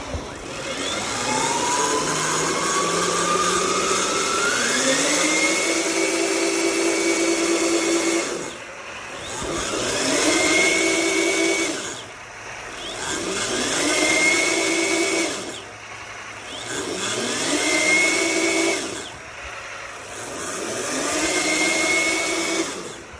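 A newly installed CYC electric bike motor runs under throttle. It gives a steady whine that climbs in pitch with each pull of the throttle, repeated in about five bursts with short pauses between them.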